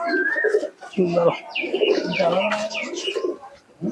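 Breeding Pakistani pigeons coo close by in a loft, their throaty calls blending with someone talking over them.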